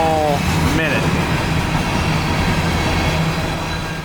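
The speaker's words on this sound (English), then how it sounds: "It's an empty train of coal hoppers returning from the Georgia Power Stylesboro facility" An empty CSX coal hopper train rolling past on the Chattanooga Subdivision near the Georgia Power Stylesboro plant, a loud steady rumble of wheels and cars with brief squeals early on and a faint voice underneath.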